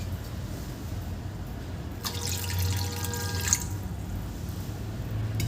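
Water pours into spinach (palak) soup in a single splashing stream of about a second and a half, midway through, over a steady low kitchen hum; no one speaks.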